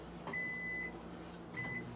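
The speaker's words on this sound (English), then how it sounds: "That was my timer for the other thing." A kitchen timer gives two short, thin electronic beeps about a second apart, faint under a low background hum in a home kitchen.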